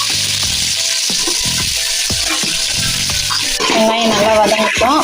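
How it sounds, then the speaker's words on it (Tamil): Sliced onions for chicken biryani fry steadily in a pan, a loud continuous sizzle with occasional stirring scrapes, growing busier and more crackly toward the end. "வெங்காயம் நல்லா வதங்கட்டும்"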